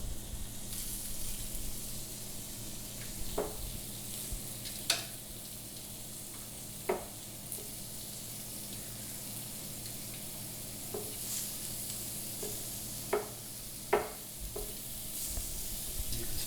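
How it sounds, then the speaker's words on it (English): Shrimp frying on a hot Himalayan salt cooking brick, a quiet steady sizzle with occasional soft ticks and pops, no talking. "start hearing them sizzling."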